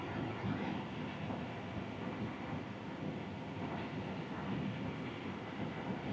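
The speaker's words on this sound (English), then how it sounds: "Flaps are slowly extending." Aircraft wing flaps slowly extending during maintenance work, a steady dense mechanical rumble and whine that holds level throughout, moderately loud with no talk.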